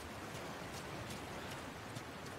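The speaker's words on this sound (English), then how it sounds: "It's raining." Steady rain falls in The Last of Us video game, a dense, continuous hiss with faint scattered drops, heard alone without voices.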